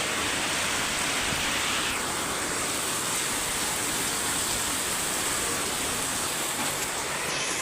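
Heavy rain pours down on Sattapar village in Kutch as a dense, unbroken hiss that stays loud and even throughout, with no voices.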